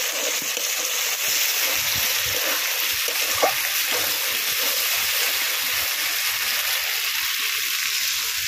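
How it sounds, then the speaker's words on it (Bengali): Water pours into fried spice paste in a pan, making a continuous loud rushing hiss and splash close by that runs steadily without pause. "এবার জল দিয়ে দেবো।"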